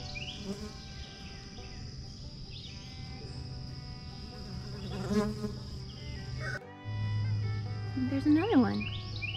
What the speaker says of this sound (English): it's one of our little honeybees